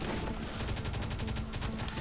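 Rapid automatic turret fire in the survival game Last Day on Earth, a steady stream of close, loud shots at an even rhythm running for about two seconds, with no voices.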